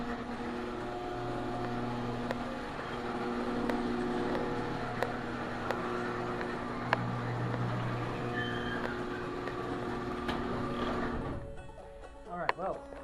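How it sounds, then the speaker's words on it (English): Garage door closing in a home garage: a steady mechanical whirring and humming with faint rattles runs for about eleven seconds, then cuts off, followed by a few quiet clunks. "Pardon the noise. I'm gonna close my garage door."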